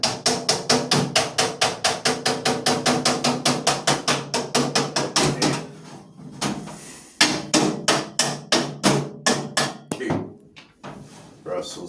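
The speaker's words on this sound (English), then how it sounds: "Where's my hammer for Russell's head?" Rapid, regular hammer blows ring out in a kitchen, dozens of loud close strikes in a steady rhythm, a short pause, then another uneven burst of hits.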